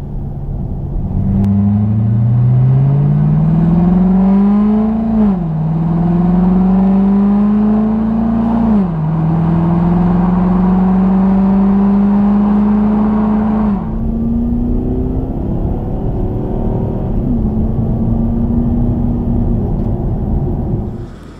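A 2015 Cadillac CTS-V Coupe engine revs loudly on a test drive, climbing steadily in pitch several times with abrupt drops at the paddle-shifted gear changes, and throttle blips on the downshifts.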